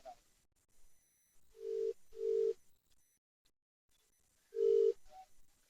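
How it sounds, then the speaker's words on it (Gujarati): Three loud, clear tones ring out on a telephone as a call is placed, with short gaps between them, then a fainter higher beep, and no speech. "ફોન લગાવો."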